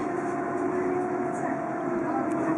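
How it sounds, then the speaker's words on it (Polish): A PESA 122Nal Swing tram in Łódź runs at speed, heard from inside as a steady, loud rumbling roar with a faint whine, continuous throughout. "Tutaj tramwaj osiągnął prędkość warp."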